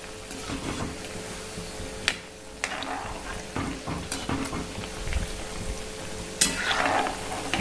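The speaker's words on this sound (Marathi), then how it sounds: "आता कंटिन्यू हलवत राहायचं, वरच्या खाली अशी साईड बदलायची" Wheat-flour kapnya pastries deep-fry in a kadhai over low heat, giving a steady close sizzle with scattered scraping clicks and knocks as they are stirred and turned.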